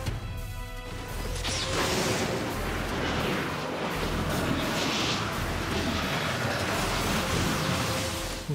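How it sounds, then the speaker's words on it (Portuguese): A loud, sustained roar of blasts and crashing debris in the video game inFAMOUS 2, dense and continuous, with a faint voice at the start. "a explosão funciona"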